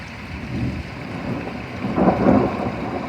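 Thunder rumbles through an outdoor thunderstorm, a low rolling roar that swells near the end over a steady bed of rain, with no voices.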